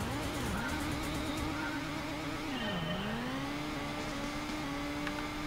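A rear-wheel-drive Cerbera race car's engine revs steadily and loudly in a Gran Turismo 1 race, pitch climbing and dropping through gear shifts with other cars faintly audible.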